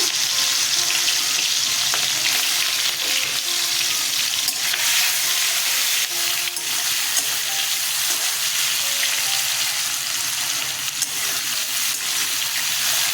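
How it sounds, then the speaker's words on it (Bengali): Salt-and-turmeric coated fish frying in hot oil gives a loud, steady sizzle with crackling spatter throughout, close up, with faint clinks of a utensil and no one speaking. "মাছগুলো নুন হলুদ মেখেছি, মাছগুলো এবার ভেজে নেব।"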